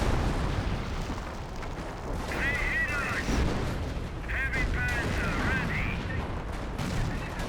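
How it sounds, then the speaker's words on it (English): Artillery shells rain down in the World War II strategy game Company of Heroes 1, a continuous heavy rumble of impacts and gunfire with someone commentating over it. "Artillery raining in right there"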